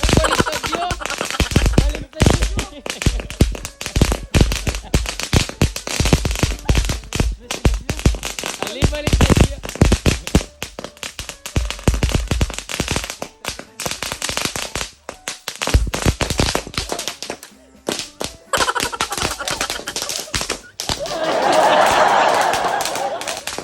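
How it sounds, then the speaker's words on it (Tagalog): Rapid bursts of New Year firecrackers crackle and pop almost continuously, loud and close, with people chattering underneath and a hissing rumble near the end. "talagang hinaabol kami ng mga paputok"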